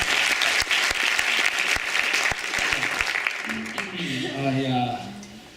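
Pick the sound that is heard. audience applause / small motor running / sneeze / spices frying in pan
audience applause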